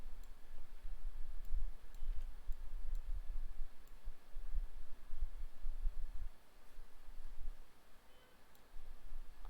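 Soft, rapid mouse clicks at the desk while squash and stretch are adjusted in animation software, a quiet patter of ticks over low rumbling room noise, with no talking.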